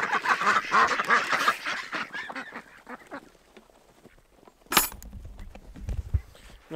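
Several ducks and geese quack and honk in a noisy cluster close by, then the calls thin out to scattered honks and shuffling.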